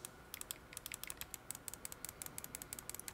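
The thumb buttons on a Roccat Kone XP Air mouse click close up, a quick run of sharp, light clicks in an uneven rhythm against a quiet room.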